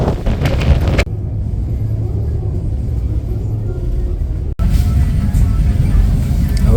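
Strong wind at a ferry port on Lanzarote buffets the microphone in loud, low rumbling gusts, briefly dropping away before roaring back, with a rough sea and engine-like rumble mixed in and no clear voices.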